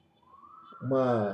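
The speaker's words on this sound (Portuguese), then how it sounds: "sirene de polícia?" A police siren rises and wails briefly in the distance, growing louder toward the end of a short quiet stretch.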